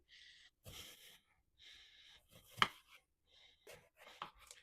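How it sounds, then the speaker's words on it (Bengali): A knife slices garden eggplant into rounds on a home kitchen board, giving a few soft, separate cuts with quiet pauses and faint breathing between them, close and gentle. "১ম এ গোল, গোল করে কেটে নিচ্ছি।"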